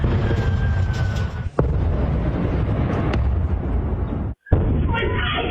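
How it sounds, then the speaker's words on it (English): Heavy booms and sharp bursts of gunfire roll on continuously through border towns, loud and rumbling, with a sudden brief silence near the end. "gunfire and explosions shook border towns"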